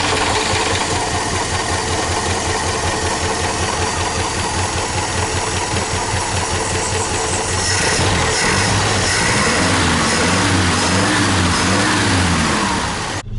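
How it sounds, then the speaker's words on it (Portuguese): A 1978 Chevrolet Opala engine runs loud and close, a rough, steady drone that shifts partway through into a wavering idle as it warms up, with no talk. "eu vou dar a partida, a gente vai deixar esquentando um pouquinho"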